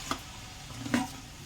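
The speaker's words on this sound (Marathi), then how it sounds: "कढईमध्ये तेल टाकून कढीपत्ता टाकून अद्रक लसूणची पेस्ट टाकून घेतली" Curry leaves and ginger-garlic paste sizzle in hot oil in a wok, a soft steady crackle with a few sharp stirring clinks, close and fairly quiet.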